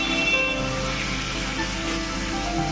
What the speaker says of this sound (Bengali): দেখুন চিকেনটা আমি 6 থেকে 7 মিনিট মতো খুব ভালোভাবে ভেজে নিয়েছি।